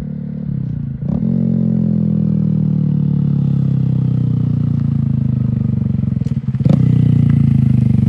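A 2022 Honda Grom motorcycle holds a steady, loud engine drone while riding, its pitch slowly climbing through a gear, with a brief shift-like break near the start and another later on.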